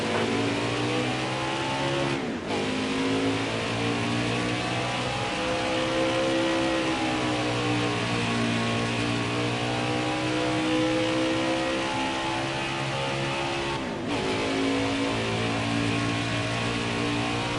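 NASCAR Craftsman Truck Series race trucks at Watkins Glen roar past with a continuous, droning engine sound that rises and falls in pitch, broken by two short gaps, with no voices.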